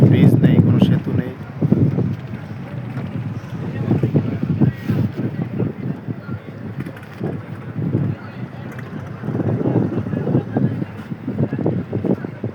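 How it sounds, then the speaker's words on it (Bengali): A river ferry crossing with wind buffeting the microphone in loud gusts over a low engine and water rumble, while people talk intermittently nearby. "আমরা এখন ফেরিতে আছি, ওপার যাব।"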